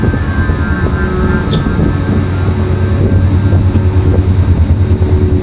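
An electric motor driven by a Delta MS300 inverter runs forward with a steady low hum and faint tonal whine, loud, close and unbroken throughout.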